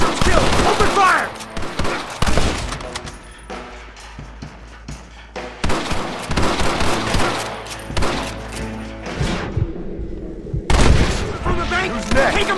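Gunfire erupts in Red Dead Redemption, loud cracking shots in bursts with echoing booms and quieter gaps between volleys, mixed with game character shouting.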